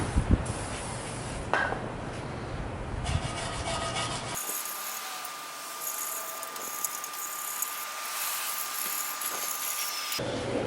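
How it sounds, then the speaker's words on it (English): A WD-40 aerosol hisses steadily onto RTV sealer for about six seconds. Before it, a brass-bristle brush scrubs and rasps at the sealer. No one talks. "The first one I'm going to try is my brass bristles and WD-40."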